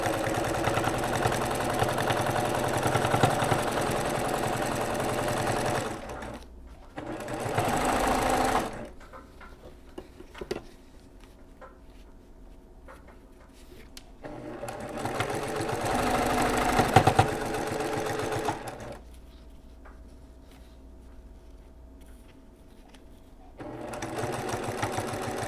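A sewing machine stitches quilt blocks together with sashing strips, its steady close whirring motor running in long bursts separated by quieter pauses.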